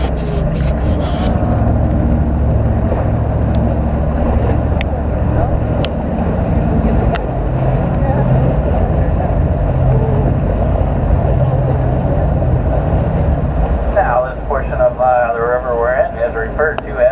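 A jet boat engine drones steadily on a river at Wisconsin Dells, loud and close, with a person talking over it for part of the time.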